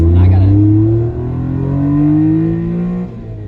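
A 1994 Suzuki Every Joypop kei van engine drones while driving, its pitch rising steadily through the gears with a shift midway, loud and close, under speech.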